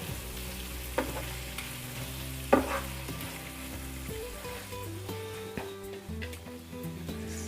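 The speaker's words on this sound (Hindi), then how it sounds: "इसे भी हम अच्छे से मिक्स कर देंगे, बहुत हल्के हाथ से कीजिएगा" Paneer cubes in a curry with cream stirred gently in a pan, soft scraping and low sizzling with a couple of louder spoon knocks, steady and close, no talking.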